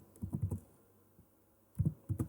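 Computer keyboard typing in short clustered bursts of keystrokes, with a quiet pause between the first flurry and two later ones, close and fairly soft.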